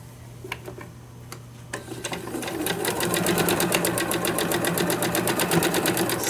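Sewing machine stitching down fabric scraps and netting, its needle running fast and steady at close range after a few slower starting ticks.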